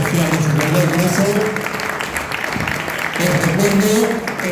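Loud applause for the participants at a round-table event, a dense wash of clapping with voices murmuring and talking underneath, dipping briefly midway before swelling again.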